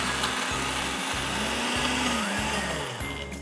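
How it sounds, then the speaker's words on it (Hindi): Kitchen blender grinds trimmed bread slices into crumbs, a loud steady motor whir with a rhythmic pulsing thump about twice a second as the pieces tumble, running alone without talk. "इसे हम डालेंगे एक ब्लेंडर में"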